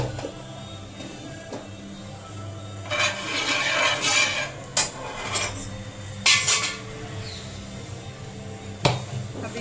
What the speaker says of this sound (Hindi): बस इसी ऑयल में हम मसाला भूनेंगे।